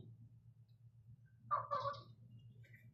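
A single short burst of fowl calling, gobble-like, rises briefly over a steady low hum; faint and fairly close, no talking.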